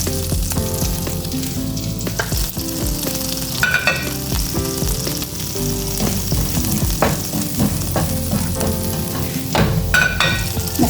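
Shrimp sautéing with garlic in a pan for a bihon noodle dish, a steady loud sizzle with occasional stirring scrapes and clatters, no talk.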